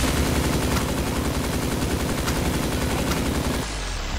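Rapid automatic gunfire from a Roblox shooter game, loud and continuous in a dense stream of shots that runs for several seconds and then cuts off near the end, with no voices over it.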